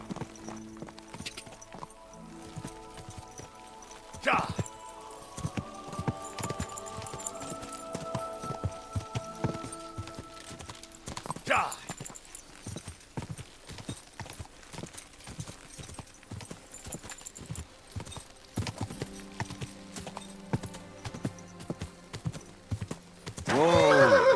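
Horse in the Kingdom Come: Deliverance II video game trotting with a steady rhythmic clip-clop of hooves, a few louder whinnies breaking through, with faint background music and no talk.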